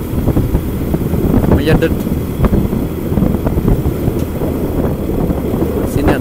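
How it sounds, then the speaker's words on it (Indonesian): A motorcycle engine labours uphill on a quiet rural road in Cipari, Kuningan, West Java, giving a steady low rumble mixed with wind buffeting on the microphone, while someone talks over it. "Nanjak terus ini motornya"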